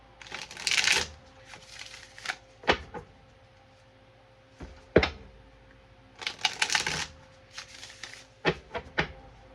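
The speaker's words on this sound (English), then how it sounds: "Let's give her shuffle again and cut these cards." Tarot cards being shuffled in several crisp riffling bursts, with clicks and taps between them, close and fairly loud with pauses.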